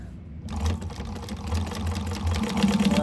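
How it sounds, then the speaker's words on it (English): A sewing machine stitches fabric an eighth of an inch from the edge of a cut-out hole, a steady close mechanical whir with a low rhythmic motor chatter that starts after a brief pause and runs continuously. "I'm just sewing this 1/8 of an inch away from the edge on this hole that I cut out."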